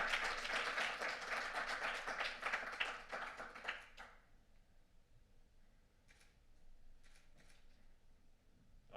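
Audience applause at a Future-IoT day event, quick dense clapping for about four seconds that stops abruptly, followed by a quiet room with a few faint taps.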